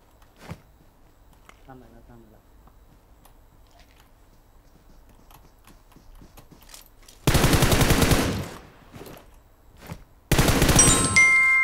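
Automatic gunfire in PUBG Mobile, two loud sustained bursts of rapid shots, following a quiet stretch with faint game sounds and a distant shot.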